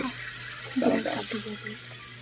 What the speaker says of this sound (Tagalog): lagyan natin ng tubig